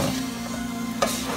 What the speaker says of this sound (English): You don't really want it to burn, so we're just sauteing.